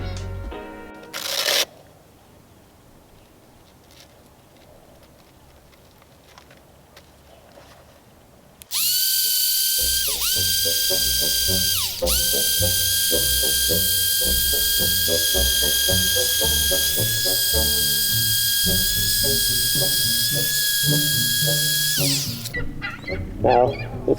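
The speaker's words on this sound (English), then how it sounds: "Now it's time to grind." An angle grinder grinds osmosis blisters out of a sailboat's hull, starting after a quiet stretch with a single knock and then whining loudly and steadily at close range for about thirteen seconds, with two brief dips in pitch.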